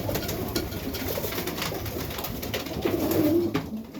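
Serbian highflyer pigeons coo inside a winter loft, a low throaty rolling coo rising clearly near the end over a busy backdrop of shuffling and faint bird noise, close by and fairly loud, with no talk.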